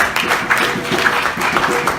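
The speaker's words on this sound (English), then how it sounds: "we have to applaud that for ourselves" Audience applause at a Rastafari conference in Ghana, a dense, steady wash of clapping lasting about two seconds with no clear voices.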